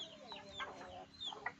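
Rhode Island Red hens clucking in a backyard coop in the province of La Union, several soft, quiet clucks and murmurs in quick succession, close but low in level.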